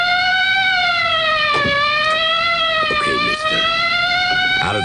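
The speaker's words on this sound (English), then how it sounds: "Don't you know a police siren when you hear one?" A loud police siren wails steadily with a slowly rising and falling pitch, close by, with brief background noises underneath.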